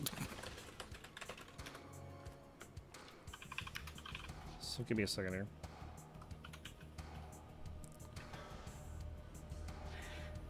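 Rapid clicking on a computer keyboard runs through the whole stretch, fast and fairly close, while someone talks over it.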